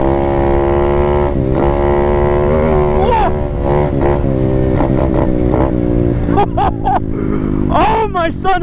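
An Apollo 125 RFZ Chinese dirt bike engine revs hard and climbs steadily, its harmonic whine rising and falling through gear changes, loud and close, with excited speech breaking in toward the end.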